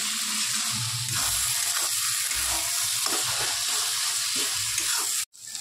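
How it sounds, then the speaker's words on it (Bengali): Ground coriander and cumin fry in a pan with a continuous hiss and sizzle and some faint stirring scrapes, ending in a brief sharp knock, during festival cooking for the Vishwakarma and Ganesh pujas. "মশলাটাকে ভালো করে ভেজে নিচ্ছি।"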